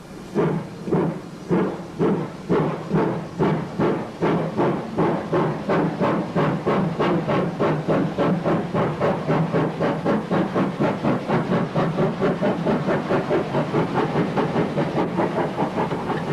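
A GWR 1400 tank or pannier steam locomotive at Monmouth on the Wye Valley line chuffs steadily and close by, its regular exhaust beats quickening into a fast, even rhythm.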